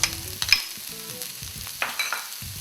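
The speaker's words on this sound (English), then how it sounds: "So now add the vegetables. I'm going to add the carrots" Carrots and other vegetables hit a hot pan and fry, with sizzling crackles and occasional scraping stirs from a spoon, set against a quiet kitchen background.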